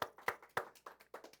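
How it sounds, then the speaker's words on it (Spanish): Sparse, distinct handclaps from a small audience at a Shabbat church service, about half a dozen sharp claps over little more than a second, fairly quiet and close, with no talking. "Un aplauso para nuestra"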